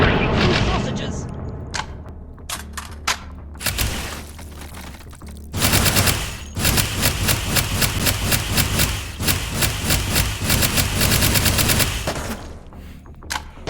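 The Rosie minigun in the VR shooter H3VR fires long, rapid continuous bursts with booming, rattling roar, briefly pausing between volleys, with a voice speaking early on.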